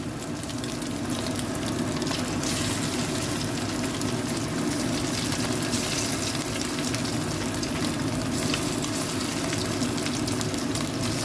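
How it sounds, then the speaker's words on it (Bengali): Chicken pieces for chilli chicken fry in hot oil with a steady, dense sizzle and crackle, loud and continuous throughout with no talk. "তেল গরম হয়ে গেছে, এবার আমি একটা একটা করে মাংসগুলো ছেড়ে দিচ্ছি"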